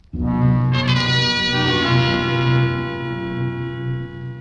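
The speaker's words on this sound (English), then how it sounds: "Leaning on the bell at Tracy Lake's apartment" A buzzing apartment doorbell held down in an old radio drama, one long continuous electric tone that rings on loud and steady for several seconds before tapering slightly.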